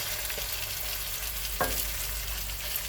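Continuous close-up frying, a steady hiss of a cabbage mixture cooking in a pan with a brief scrape or stir near the middle.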